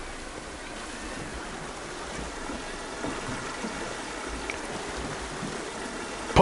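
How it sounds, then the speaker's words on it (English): Water rushing along a water flume ride in the Planet Coaster 2 video game, a steady, fairly loud flowing wash that holds throughout with no one talking. "It's really cool how you can test the water flumes as well."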